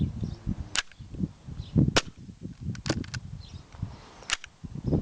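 A Tokyo Marui MK23 SOCOM airsoft pistol fires several sharp, loud cracks spread across the stretch, each a brief snapping pop with short gaps between, heard close up with no talking.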